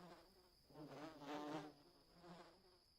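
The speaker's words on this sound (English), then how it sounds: "Bees in our hospital." Bees buzz in the video game Voices of the Void, a faint, close droning hum that swells in the middle of a brief moment and fades again.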